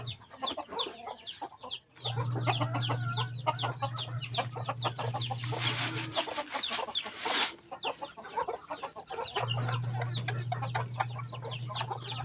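Chickens clucking busily at feeding time on a farm with ducks nearby, many close overlapping clucks and chatters in a steady flurry, with a low hum running underneath.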